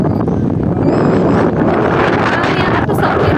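Gusty wind buffets the microphone on a hilltop near a temple, a loud continuous rumble and roar filling the whole stretch, with faint indistinct sounds beneath.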